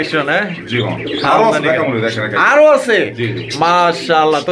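Lahori pigeons, a toy Lahori pair offered for sale, coo and call close by while people talk loudly over them nearly the whole time.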